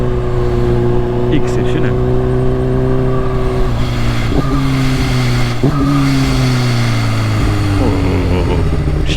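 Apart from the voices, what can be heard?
Kawasaki H2 motorcycle full exhaust system popping and revving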